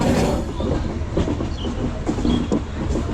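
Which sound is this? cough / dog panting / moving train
moving train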